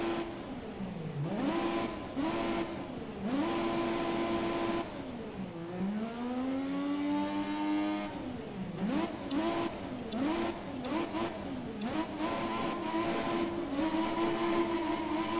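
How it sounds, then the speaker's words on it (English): Classic Formula 1 car engine in the F1 2017 racing game, revving hard and loud through repeated upshifts and downshifts with rising and falling pitch sweeps, heard continuously without talk. "some of the gameplay footage, like from very classic cars"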